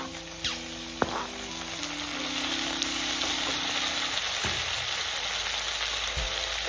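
Chopped tomatoes and mixed vegetables sizzle in a pan for vegetable upma, a steady, moderately loud frying hiss with a few clicks and soft knocks, while a faint tonal hum sounds in the background early on.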